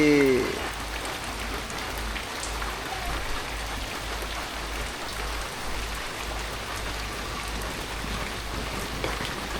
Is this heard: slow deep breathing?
no